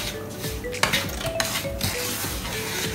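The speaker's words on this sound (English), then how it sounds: "So we'll just have to keep stirring this" Suji halwa being stirred in a pan, with close metallic scraping and clinking of a spoon against the pan over a steady background hum, a few sharper knocks, no talk.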